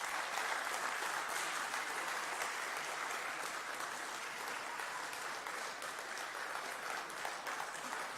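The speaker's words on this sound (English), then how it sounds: "Please continue the applaud for some time." Audience at a national power engineering workshop applauds guests being seated on the dais, a steady, dense wash of clapping that holds evenly for the full stretch.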